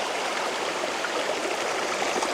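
A stream near Secret Falls at Sombrio Beach gives a steady, close rush of flowing water with an even hiss and gurgle that runs through the whole clip, with no voices.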